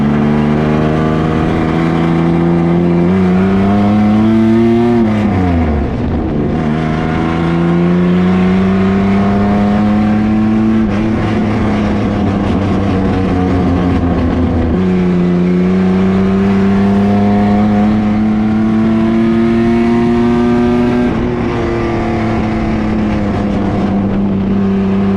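The Danger Ranger 9000 race truck roars through qualifying laps, its engine loud and close with steady high revving, rising and falling pitch as it shifts and accelerates, nearly continuous throughout with no talking.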